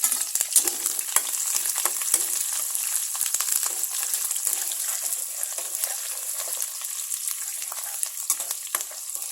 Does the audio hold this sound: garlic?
yes